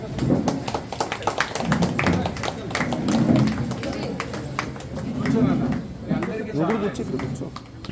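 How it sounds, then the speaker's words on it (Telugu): Children clap at a Ganesha bhajan gathering, scattered uneven claps and taps running throughout, while voices talk over them in the foreground. "అందరూ కూడా పిల్లలు చప్పట్లు కొట్టాలి."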